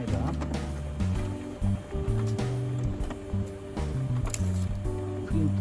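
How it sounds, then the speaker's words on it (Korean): A Samsung SL-C513 color laser printer warms up right after power-on, giving a close, continuous mechanical whirring hum whose tones shift and step in a steady pattern, with no talking. "초기에 워밍업을 합니다."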